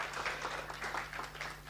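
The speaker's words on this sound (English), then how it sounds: "A round of applause for Braden" A conference audience gives a brief, steady round of applause, soft and somewhat distant, with dense overlapping claps and a constant low hum beneath.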